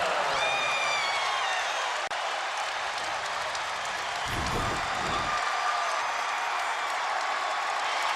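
A college basketball crowd at Western Kentucky hosting Wisconsin roars and applauds after an and-one finish, a broad sustained wash of cheering with a brief low rumble partway through.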